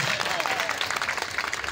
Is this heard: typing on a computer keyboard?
no